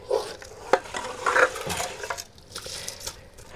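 Rice is added to khichuri cooking in a pot, with close clinks and scrapes of utensil against metal and a light sizzle underneath, a few sharper knocks standing out among steady stirring noise.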